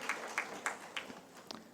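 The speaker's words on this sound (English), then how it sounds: "Round of applause, please." Sparse clapping from a small audience at a medical technology forum on telemedicine, a few distinct claps in a loose rhythm that soon fade.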